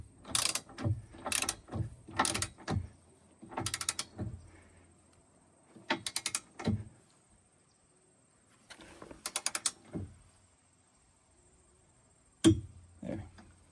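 A torque wrench ratchets and clicks while tightening the bolts of a Class 3 trailer hitch on a 2023 Chevrolet Bolt EUV, with close, repeated bursts of rapid clicking separated by short pauses and occasional sharp single clicks.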